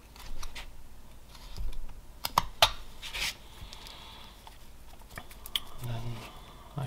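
A knife whittling a step cut into wood while carving a hooded Viking figure, giving scattered faint scraping and sharp ticking cuts, some louder snaps among quiet rustling, with a voice speaking now and then.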